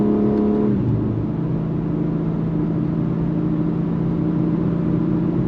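Twin-turbo engine of a BMW M3 Competition G80 sedan, its sound pumped into the cabin, gives a steady low hum with a brief rising rev at the start, heard alone from inside the car.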